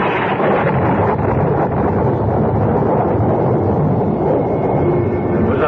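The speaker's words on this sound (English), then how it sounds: "It was a belt of thunder like the crack of doom." A rolling thunder clap sound effect from a CBS Radio Mystery Theater drama rumbles loud and continuous for several seconds, a broad dense roar with no voices over it.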